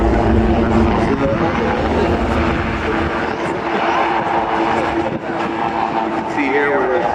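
A Wildcat helicopter from the maritime strike conversion unit performs a climbing 360-degree pedal turn at the International Ayr Show, its loud, steady rotor and engine roar continuous throughout under a commentator's voice.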